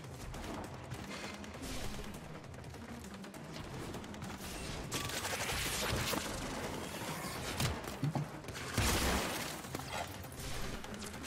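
Gunfire in Warframe, dense rapid bursts of shots rattling fairly close over a busy combat background for the whole stretch.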